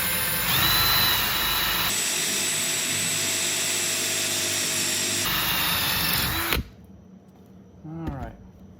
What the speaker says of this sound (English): So we're going to go ahead and drill that guy now.